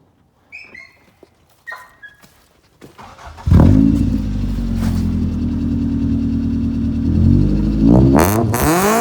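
A few sharp clicks, then a throaty car engine bursts into a loud, steady low drone close by as it drives down the road, swelling again as it revs near the end.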